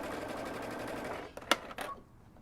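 Sewing machine stitching a seam on a kimono-style robe, a short burst of rapid needle chatter up close that ends with a couple of quick clicks, with a steady hum beneath.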